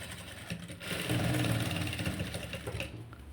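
Sewing machine running steadily while stitching a princess cut blouse, a continuous mid-pitched mechanical whir that rises in intensity after the first second and holds, with no talking over it.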